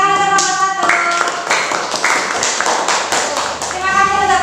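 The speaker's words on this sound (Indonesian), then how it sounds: "beri tepuk tangan untuk kelompok 1" Classroom clapping for the first student group after their presentation on addictive substances, steady overlapping hand claps from nearby with children's voices and a teacher talking over it.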